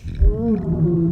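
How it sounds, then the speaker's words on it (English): A short, low rumbling growl from a stomach, gurgling and rising slightly in pitch before it fades. "that is the sound of my stomach demanding tacos."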